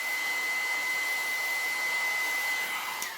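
A small hair dryer blows continuously on its low setting with a steady airy whoosh and a thin tonal whine, close and unbroken for the whole stretch.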